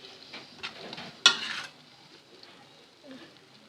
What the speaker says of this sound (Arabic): هقلبه شويه كده يتشوح